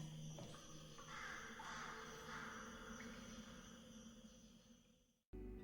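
Birds call faintly in the distance among open-air surroundings in the video game Portal: Revolution, with occasional cawing notes over a soft, steady ambient bed that cuts out abruptly near the end.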